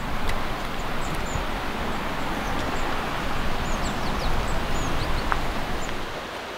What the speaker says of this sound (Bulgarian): наш неизменен другар в разходката са есенните птички, водата, шума на шумата под краката ни